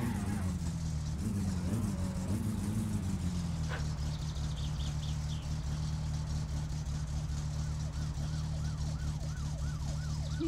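A police car siren in a Brazilian-style driving video game wails steadily and loudly over a constant engine drone, with the siren's repeating rise and fall clearest toward the end.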